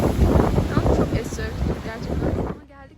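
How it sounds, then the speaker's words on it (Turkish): Heavy wind buffets the microphone in a loud, rumbling roar that drops away abruptly near the end. "Rüzgara bakar mısınız?"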